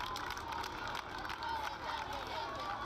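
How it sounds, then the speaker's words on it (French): A large Cuban crowd chants and cheers its greetings for Pope John Paul II during his visit to Cuba, a dense distant roar of many voices under a narrator speaking French. "on entend crier « Jean-Paul II, notre frère, bénis le peuple cubain »"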